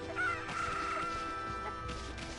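A chicken clucks and squawks in the Okami HD video game, several close calls over a busy background of game sounds.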